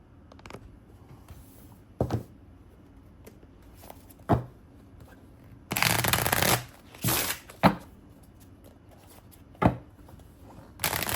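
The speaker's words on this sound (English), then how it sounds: "let's give you a little shuffle action here." Oracle cards are shuffled in repeated riffles and taps, with short crisp bursts and one longer flurry in between, up close with no talking.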